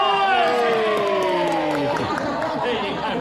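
A small crowd claps and cheers for a little girl at a heritage farm museum, a steady burst of applause with chatter and voices mixed in.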